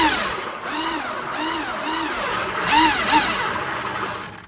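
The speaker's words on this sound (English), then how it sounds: "you get used to the sound of a Sinclair C5 motor" Sinclair C5 electric motor running during a full service, giving a steady whine with rising and falling tones that swell and ease in waves, close and moderately loud, no voices.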